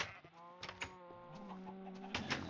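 Chickens and sheep in the video game Minecraft make short, faint, overlapping clucks and bleats in a quick cluster with no talking.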